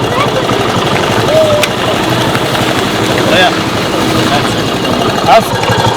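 A motorcycle taxi idles close by with a steady, loud low rumble. People talk over the engine.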